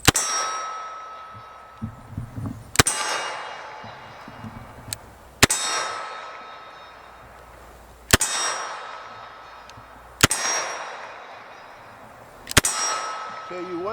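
A Colt 1917 revolver firing .45 ACP rounds, five sharp ringing shots at uneven intervals, each with a metallic decaying tail, close by with quiet background sounds between.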